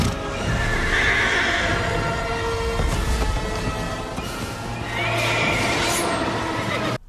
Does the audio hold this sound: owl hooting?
no